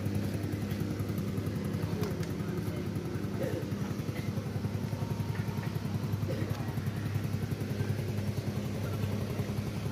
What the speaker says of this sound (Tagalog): Kaya medyo maingay nga lang kaya makina.